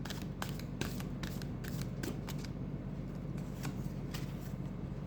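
Tarot cards are shuffled close up in a run of quick, crisp riffling bursts over a faint steady background hum.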